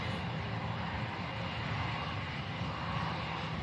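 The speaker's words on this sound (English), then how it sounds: "In that aircraft may be heading over to Belfast" A BA Shuttle fixed-wing airliner at Manchester Airport gives a steady, broadband engine roar that stays loud and constant throughout, with no talk.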